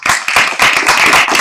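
Sharp, close hand clapping from a small group at a real estate training meeting, a quick irregular patter over about a second and a half.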